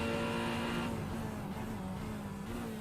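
A McLaren race car in a sim racing league at Hockenheim, its engine holding a steady, loud drone with slight pitch shifts, no talk over it.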